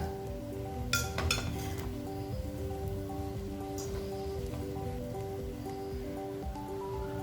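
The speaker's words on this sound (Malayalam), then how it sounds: "ഒരു ഫോർക്ക് വെച്ചൊന്ന് ഇളക്കി നോക്കുക." A fork stirs cooked Malabar coconut rice in a pot, making a few faint clinks and scrapes against the metal in the first seconds, with soft rustling after and a steady background hum and music throughout.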